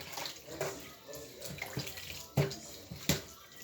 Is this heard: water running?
yes